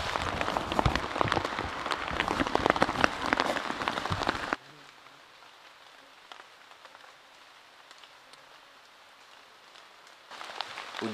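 Heavy rain pours down in a forest, dense and loud for several seconds, then drops to a softer patter before surging again near the end.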